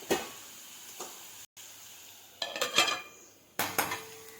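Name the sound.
pot being covered with a lid while cooking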